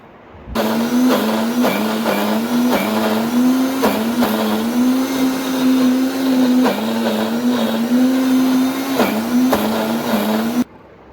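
Electric mixer grinder whirring steadily as it blends roasted onion, coconut, garlic and coriander into a masala paste, a loud continuous motor drone with small pitch dips, starting abruptly and cutting off near the end.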